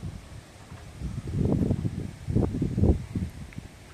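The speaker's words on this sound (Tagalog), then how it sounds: "Malakas lang yung hangin." Strong, cold wind gusts across a farm on a gloomy morning, buffeting the microphone in low rumbling bursts that swell and fade over a few seconds.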